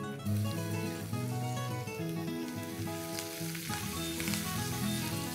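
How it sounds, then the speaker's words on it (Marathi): Garlic and green chillies fry in oil in a pan with a loud, continuous sizzle and crackle, close by, over soft background music. "लसूण जरा चांगला फ्राय होऊ देते."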